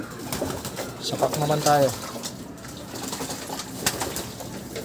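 Pigeons in a loft coo, with a clear warbling call near the middle, amid flutters and rustles while a person talks quietly nearby.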